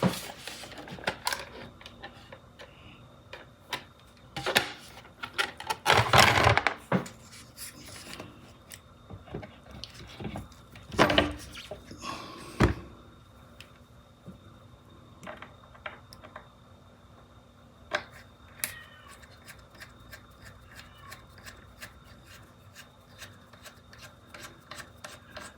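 Small metal tools work on an Exway Wave Riot electric skateboard with precision screwdrivers, giving quiet scraping, rubbing and ticking with a few louder rasping bursts, scattered irregularly over a faint background.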